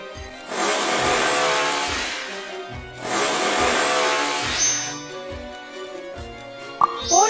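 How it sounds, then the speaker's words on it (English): A power drill whines loudly in two long bursts of several seconds each while boring a hole in an empty plastic bottle, with a short pause between, followed by a few small clicks. "Make a hole with a driller."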